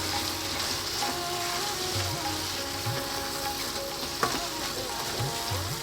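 Whole and crushed red kidney beans fry in a pan with a steady, close sizzle, with soft stirring scrapes now and then and one sharp knock partway through.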